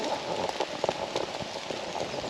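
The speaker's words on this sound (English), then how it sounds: "but it is raining" Rain patters on a nylon tarp in a UK woodland in a dense, steady drumming of close, irregular drops, moderately loud and with no voices.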